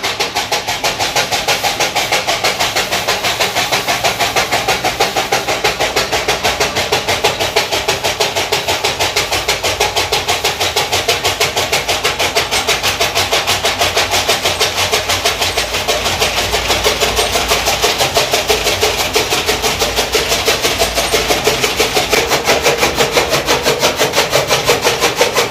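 A fodder chopping machine on a Punjab village farm in Pakistan runs steadily, cutting sorghum fodder for animals with a continuous engine-like mechanical drone and rapid rhythmic clatter close by.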